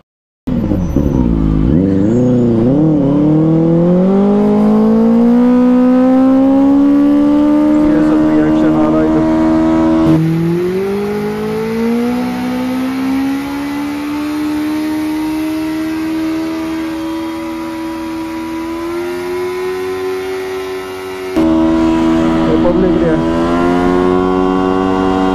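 A Benelli 600i superbike revs hard through a sustained burnout, the engine note climbing and holding high and loud for over twenty seconds, with a brief dip and a renewed surge near the end.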